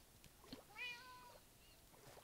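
Minecraft cat gives a single short, faint meow, a rising then falling tone, against a quiet background.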